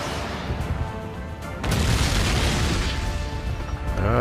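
A missile strike in the game Guns Up! lands as a loud, close boom that swells into a rolling, crackling blast and holds for several seconds.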